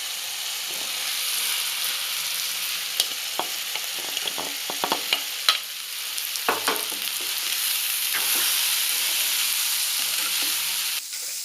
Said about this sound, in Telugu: మంచిగా అంతా కలిపేటట్టు కలుపుకోవాలి.